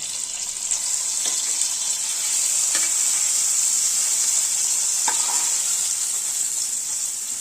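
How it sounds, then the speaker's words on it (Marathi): Cumin seeds tempering in ghee over a gas stove, giving a steady, close bright sizzle with a few soft clinks and stirring taps throughout. "गॅसवर साजूक तुपावरती जिऱ्याची फोडणी दिलेली आहे"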